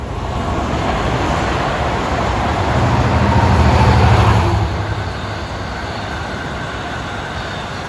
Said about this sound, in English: Here comes a historic train that is significant in this town.